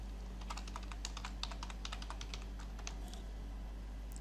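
Quick bursts of key presses on a computer keyboard as a password is typed, a run of light close clicks at an uneven pace with a short pause near the end, over a low steady hum.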